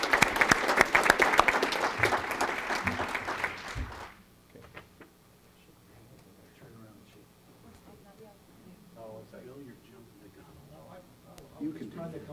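A school board meeting crowd applauds 17 all-state student musicians with loud, dense clapping for about four seconds, which then cuts off to quiet room murmur and shuffling.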